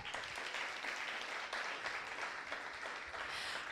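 An audience at a talent-show finale claps in a steady, dense burst that holds evenly throughout, with no voices standing out.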